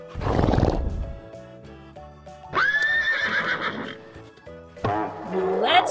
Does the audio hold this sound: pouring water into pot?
no